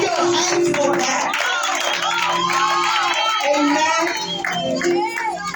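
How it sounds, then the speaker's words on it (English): A church congregation claps and cheers with whoops and shouts, including children's voices, in a sustained burst of applause that stays loud and steady for several seconds. "Clap your hands for that."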